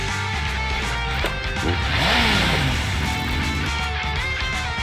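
Several vehicles race fast in the video game Zenless Zone Zero, with a loud, continuous engine roar and a rising, swooping pass-by whine near the middle, close and alone without talking.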